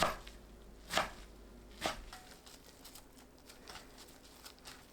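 Knife chopping blanched eomnamu (fatsia) shoots on a board, three distinct sharp cuts near the start followed by softer, scattered light taps, fairly quiet and close with no talk.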